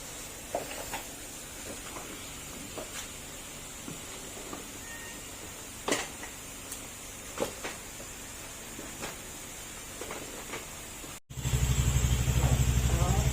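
A Honda Click 150 v2 scooter engine starts up near the end, a loud, steady running roar after a quieter stretch of scattered workshop clicks and knocks.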